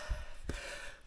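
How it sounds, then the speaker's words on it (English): A person breathes heavily outdoors on the Blackdown Tableland, letting out two close, breathy gasps about half a second apart, followed by softer exhaling. "Thought you might have wanted some heavy breathing"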